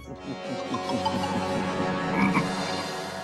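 A frog croaking in loud, raspy rhythmic pulses, steady and close throughout the short stretch with no talk over it.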